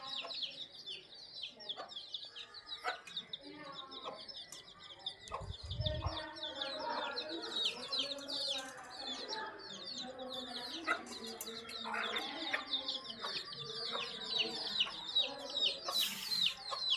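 Small chicks cheeping and clucking, a busy chorus of rapid high peeps close by that persists throughout, with a low thump midway and faint voices now and then.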